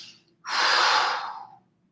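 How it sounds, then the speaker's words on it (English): A person takes one long, audible inhale through the nose and mouth while stretching the neck and opening the chest, a single loud breath lasting about a second in a quiet room. "Stretching here, breathing in."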